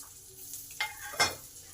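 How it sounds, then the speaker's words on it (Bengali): Grated ginger fries in hot oil with cumin, chilli and bay leaf for a Bengali vegetarian eggplant dish, a soft steady sizzle broken by two sharper scraping stirs of a spoon in the pan. "আদাটাকে একটু ভেজে নেব যাতে এর কাঁচা গন্ধটা চলে যায়"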